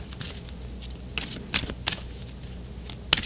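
Oracle cards being shuffled by hand in quick riffling bursts, several short crisp flurries separated by brief pauses, close and clear with no speech.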